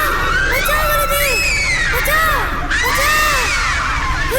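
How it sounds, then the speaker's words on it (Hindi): Disciples burned by flying embers from a burning ritual fire pit scream and shout as they flee, a chorus of shrill, overlapping cries that rise and fall in repeated waves, loud and close. "शिष्य जलन से चिल्लाते हुए भागे"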